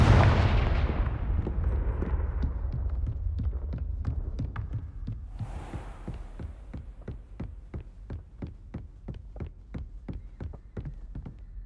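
A Confringo fire spell blasts off in Hogwarts Legacy, a loud burst at the start that fades, followed by a long run of sharp, evenly spaced impacts or crackles that carry on to the end.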